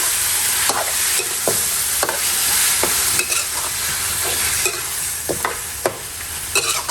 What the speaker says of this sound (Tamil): இஞ்சி பூண்டு பேஸ்ட்டு சேர்த்து நல்லா கிளறி விட்டுருணும்.